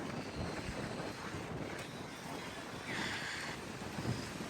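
Strong wind buffets the microphone at Huntington Beach as ocean waves roll and rush continuously in the background, a dense, steady roar with no voices.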